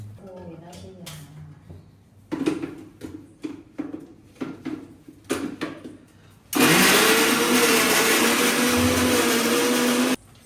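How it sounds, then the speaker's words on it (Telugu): A kitchen mixer grinder whirs loudly and steadily for about four seconds as it grinds a fish curry masala paste with ginger-garlic paste, after a stretch of clattering and a speaking voice. "ఇప్పుడు ఒకసారి మిక్సీ పట్టుకుందాం"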